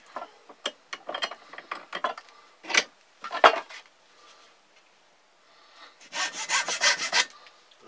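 A hand saw cuts through a wooden stick for a deadfall mouse trap, with short rasping strokes at first, a few pauses, then a quicker run of strokes close to the mic.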